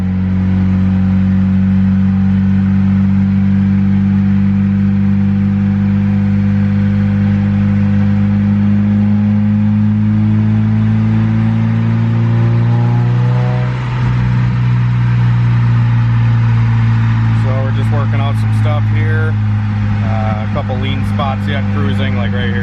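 Turbocharged Honda Civic D16Y8 four-door sedan revving hard on a dyno with VTEC off and no boost control, a loud sustained engine note climbing steadily, dipping briefly, then climbing again with crackles near the end.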